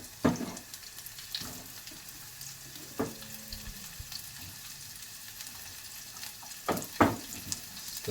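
Chopped white onion fries in coconut oil in a pan, giving a steady close sizzle with a few louder bursts of stirring and clatter spread through it, and no talk.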